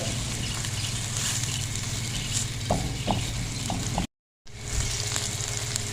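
Onion and whole spices frying in a pan, a close, steady sizzle with a few soft stirring clicks, broken by a brief silent gap near the end, no talking.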